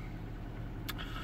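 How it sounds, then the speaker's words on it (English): A mouldy Ford Fiesta engine idles just over 1,000 rpm, a steady low, even hum that lasts a brief moment, with a short hiss partway through. "Started up straight away, no problems at all. Idling lovely,"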